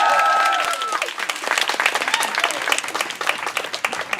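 A graduation audience for Global Poverty & Practice minor students at UC Berkeley breaks into loud applause and cheering, starting with a few whistles and settling into dense, sustained clapping.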